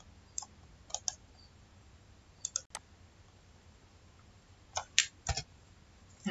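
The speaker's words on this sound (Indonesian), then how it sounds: "Ini kita ketik di sini." Light, sparse clicks of typing on a computer keyboard while entering text for an office schedule, quiet and clustered into short bursts with pauses between them.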